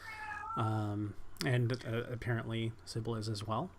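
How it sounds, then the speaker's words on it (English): A pet cat meows repeatedly from another room, several drawn-out, wavering calls that are fairly clear, with people talking over and between them. "I think That was my cat."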